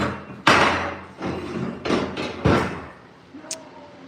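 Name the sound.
welded seat bracket being flipped over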